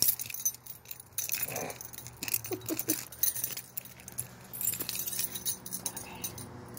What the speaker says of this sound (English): Where are my keys? Did my keys fall off?